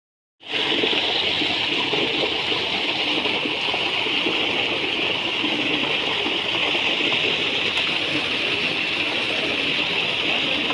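Water gushes steadily and loudly from a tubewell pump, a continuous rushing, splashing roar that holds unbroken from start to end with no voices.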